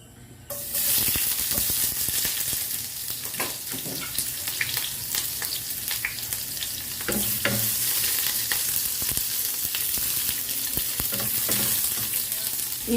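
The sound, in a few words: onion and garlic sautéing in cooking oil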